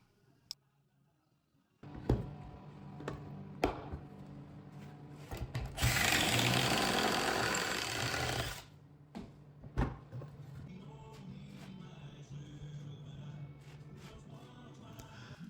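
A power drill drives pocket screws into wood for a DIY foosball table build: short bursts of motor whir with knocks and handling clatter, and one longer, louder spinning run in the middle.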